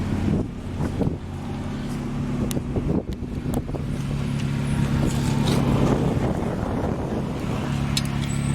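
A 1997 Honda Civic idles with its exhaust leaking at a rusty donut gasket, giving a steady low rumble with puffing, spitting pulses up close.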